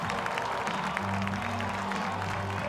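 A crowd cheers and applauds at a Wofford–Furman college football game in Gibbs Stadium, a steady, dense roar of many voices and claps heard from a distance without a break.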